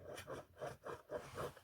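A blown American Bass XFL15 subwoofer gives off a faint, rhythmic scraping as its spring and voice coil rub, about five rasping pulses in quick succession, heard alone.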